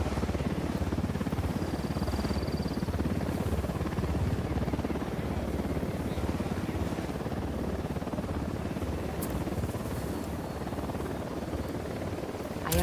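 A helicopter flies in the Ghost Recon Wildlands video game, its rotors and engine making a steady, loud, thrumming drone that holds for the full stretch, with no talk over it.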